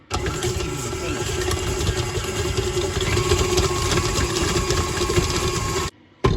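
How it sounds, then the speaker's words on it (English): An electric mixer runs on high, whipping sugar with an egg white, a steady dense motor whine that holds for about six seconds before briefly cutting out and starting again. "We're going to mix all these together on high."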